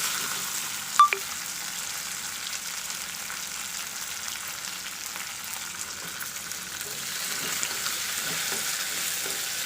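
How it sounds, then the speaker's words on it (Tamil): Ginger and garlic sauté with onions in a pan for a mutton gravy, a faint steady frying hiss with one sharp clink early on and light stirring throughout. "இப்போ நம்ம எடுத்து வச்சுருக்கிற இஞ்சி பூண்டையும் போட்டு இதில் சேர்த்து வதக்கிக்கலாம்"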